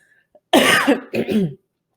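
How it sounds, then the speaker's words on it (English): A close, loud cough in two harsh bursts, rough and throaty, set against silence. "Sorry about that, bit of a cough."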